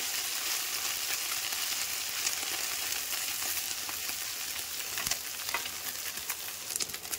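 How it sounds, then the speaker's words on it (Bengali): Steady, loud sizzling of small morola fish frying in hot oil, continuous crackle with occasional sharper pops and stirring clinks. "এবার আমি ভালো করে এটাকে নেড়ে দেবো, আর একটু ভাজার পর"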